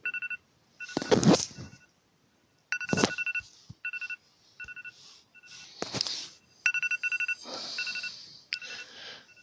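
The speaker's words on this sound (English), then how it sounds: "That's the sound of my friendly alarm" An electronic phone alarm chirps in short repeating beeping bursts, interrupted by rustling and knocking sounds nearby, moderately loud.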